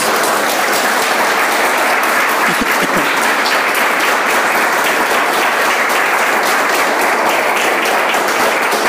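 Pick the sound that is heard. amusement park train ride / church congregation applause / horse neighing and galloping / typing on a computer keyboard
church congregation applause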